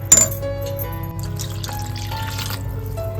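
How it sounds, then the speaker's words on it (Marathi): Water splashes into a metal cooking pot of village-style dried fish curry with an initial clatter, then a steady pouring gurgle with ringing tones from the vessel. "शेवटी आपल्याला पाणी घालून घ्यायचं आहे"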